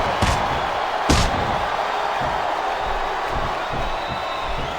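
Virtual arena crowd in a WWE SmackDown vs Raw 2007 wrestling match, a continuous roar of cheering that fills the space, punctuated by a couple of heavy slams from the ring early on.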